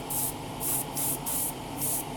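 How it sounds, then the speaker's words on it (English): Aerosol spray paint hissing onto a 1:12 scale model motorcycle frame in four or five short bursts, each about a third of a second long, close and steady with brief gaps between. "spraying over it."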